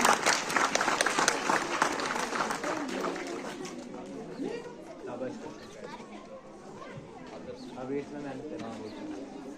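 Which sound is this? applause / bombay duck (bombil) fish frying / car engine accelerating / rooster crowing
applause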